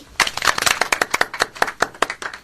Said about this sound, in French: Messieurs, mesdames, applaudissez.